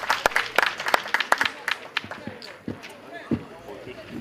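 Scattered, uneven clapping from a small crowd at the opening of a pétanque tournament, a few loud sharp claps early that fade into sparse, quieter ones with some background chatter.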